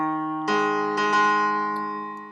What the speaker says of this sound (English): That's the sound of the perfect fourth.